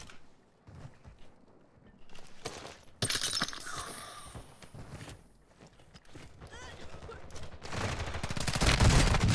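Gunfire in the Warzone 2.0 video game: bursts and rapid shots of varying loudness, swelling into a louder volley near the end, with players talking throughout.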